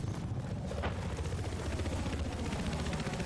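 A helicopter in a first-person shooter match, heard as a steady low rotor thrum and whine that fills the whole stretch at moderate loudness with no talk over it.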